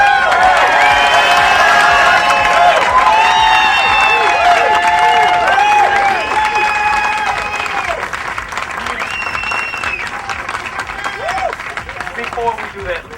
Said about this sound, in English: let's give another big round of applause for Mr.